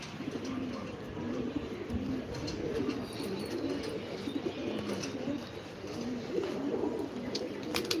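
Large pet pigeons cooing in a steady, overlapping murmur, with soft low coos repeating continuously at close range and faint chirps over a constant background hum.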